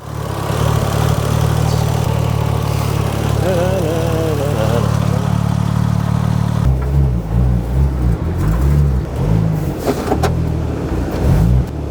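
Rebuilt crashed Porsche 911 Turbo engine runs rough, a loud steady drone that shifts partway through into an uneven, wavering idle. A voice is briefly heard over it.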